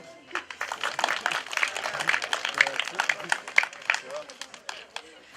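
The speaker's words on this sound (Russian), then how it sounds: "Хлопаем." An audience claps at a school team tournament awards ceremony, a burst of scattered applause swelling and fading under background voices.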